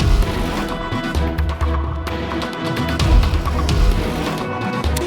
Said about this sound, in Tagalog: Sir, naririnig mo yung motor mo?